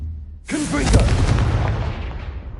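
A Confringo fire spell blast in Hogwarts Legacy bursts in abruptly and loud, a booming fiery impact that rolls into a sustained crackling roar, with a voice calling out briefly over the start.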